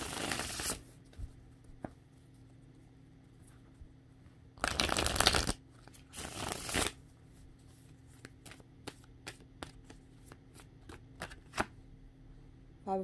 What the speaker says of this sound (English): I'm going to go ahead and pull cards for singles.